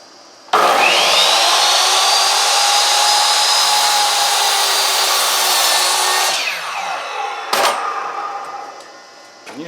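A miter saw cuts through wood boards, shortening each side by two inches: a loud, steady whining buzz runs for about six seconds, then spins down, followed by a brief second burst of sawing noise nearby.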